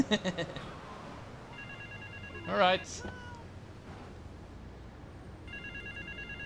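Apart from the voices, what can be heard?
phone ringing in the video game Grand Theft Auto III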